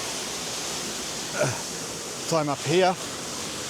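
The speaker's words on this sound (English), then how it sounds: "Check this out. Waterfall there." Waterfall in the Lake District rushes as a steady, full hiss of falling water, close and constant throughout, while a person speaks briefly over it.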